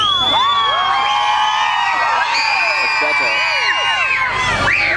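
A crowd at a winter festival whip-cracking show cheering and whooping loudly, many excited children's voices shouting together, continuous and close.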